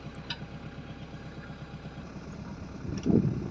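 A tractor engine chugs at low revs during orchard planting, a faint steady rhythmic putter that swells briefly louder near the end.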